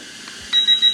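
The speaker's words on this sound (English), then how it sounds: "Hear those three beeps?" Three quick electronic beeps from a SnapTain SP350 beginner mini drone as it switches speed mode, close and fairly loud after a moment of quiet hum.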